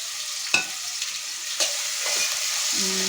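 Green chilies and onions fry in a pan with a steady, close broadband sizzle, broken by a few sharp scrapes of stirring and a brief tonal clink near the end.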